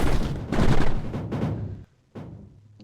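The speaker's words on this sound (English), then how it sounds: "Explosions everywhere." Rapid bursts of gunfire and booming explosions from the Mindustry video game come in dense, loud volleys, pausing briefly before another sharp blast, with no talking over them.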